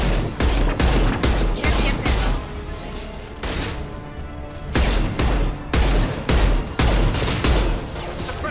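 Sustained suppressive gunfire in the video game Mass Effect 2 Legendary Edition: loud, dense automatic bursts with a brief lull in the middle before the firing resumes, no clear speech.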